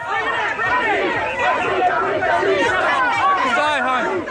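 Crowds of protesters at a street rally, a loud continuous babble of many overlapping voices and shouts close around, with no single speaker standing out.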